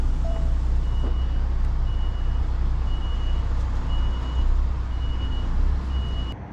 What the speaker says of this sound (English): Just have to reverse back a little bit.